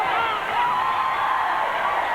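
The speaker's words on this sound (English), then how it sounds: "As you hear the crowd urge the Cougars on." A steady roar of an arena crowd cheering on the Cougars during a 1999 playoff basketball game, Regina versus Manitoba, heard as a continuous, distant wash of voices with no clear breaks.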